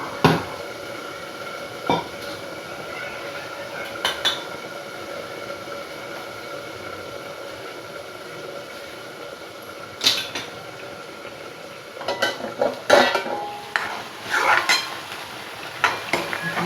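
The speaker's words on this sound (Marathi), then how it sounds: "छानपैकी तळून घ्यायचं." Spices for chole fry in a pan with a steady hissing sizzle, while a spoon clinks and scrapes against the metal now and then, getting busier toward the end.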